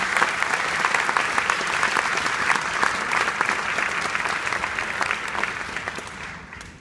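Audience at an 8th grade spring school band concert clapping steadily in a dense, sustained round of applause that tapers off near the end.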